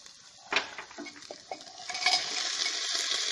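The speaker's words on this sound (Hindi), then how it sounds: "आधा मिनट और लगेगा प्याज फ्राई होने में।" Onions fry in a pan for vegetable rice: a few clinks and scrapes of a spoon stirring at first, then a soft sizzle builds and holds steady, fairly quiet and close.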